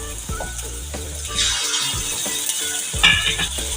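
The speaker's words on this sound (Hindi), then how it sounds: "लहसुन अदरक का पेस्ट 1 मिनट के लिए भून लें इसको।" Garlic ginger paste fries in a hot karahi, a close, steady sizzle broken by scraping stirs of a spoon against the pan.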